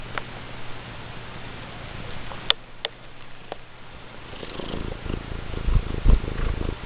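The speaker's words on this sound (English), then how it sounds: "While she purrs." A cat purrs steadily and softly while held on a person's lap, a low continuous rumble close to the ear, with a few faint ticks and light handling noises over it.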